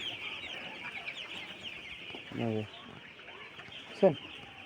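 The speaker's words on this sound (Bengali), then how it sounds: "এই যে মুরগিটা এখন কি করবো দেখেন।" A chicken gives a brief harmonic cluck, with a second short call soon after, faint against a steady background hiss and outdoor noise.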